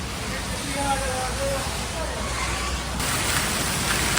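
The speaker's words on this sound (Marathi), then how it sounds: "बघा तुफान असा पाऊस आहे" Steady, dense hiss of heavy rain pouring down in a Konkan village, loud and continuous throughout, with faint voices murmuring underneath.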